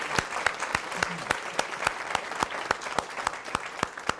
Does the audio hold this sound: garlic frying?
no